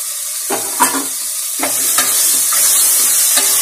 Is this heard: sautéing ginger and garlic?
yes